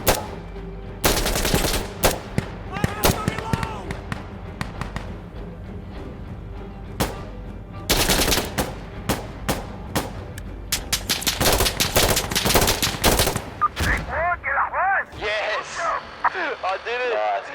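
Sustained automatic gunfire as a full magazine is emptied in Insurgency: Sandstorm on Xbox One, loud bursts of rapid shots repeating across the clip with players talking over the battle.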